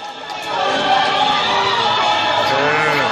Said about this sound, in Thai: ขอเสียงปรบมือต้อนรับครับอาจารย์หน้าการทีมเปลี่ยนหน้าการสโมสร